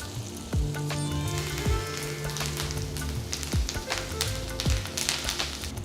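Curry leaves dropped into hot oil with chopped green chilies crackle and sizzle in a pan, a close steady hiss with sharp pops and spits scattered throughout.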